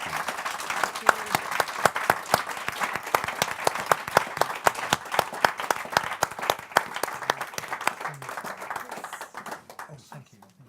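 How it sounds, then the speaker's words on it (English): A live audience at a recognition event applauds three guests called up together, a dense, sustained round of clapping that stays loud for most of its length before thinning out toward the end. "give them a fantastic round of applause"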